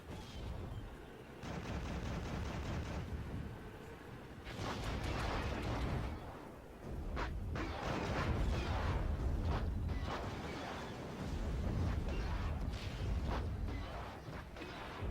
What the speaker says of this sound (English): The artillery turret just needs one more shot here, and does get kill on one more Terminator.